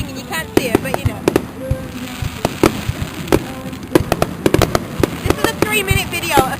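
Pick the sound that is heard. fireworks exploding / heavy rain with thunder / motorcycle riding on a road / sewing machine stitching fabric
fireworks exploding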